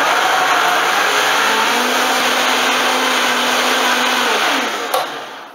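A blender mixes a thick green smoothie of avocado, apple and water, a loud steady motor whine running for about five seconds before spinning down with a brief clunk.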